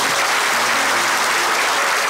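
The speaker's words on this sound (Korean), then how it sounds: "먼저 소개 전에 박수 한번 부탁드리겠습니다." A church congregation at a Sunday worship service bursts into loud, dense applause that fills the whole moment evenly, with no voices above it.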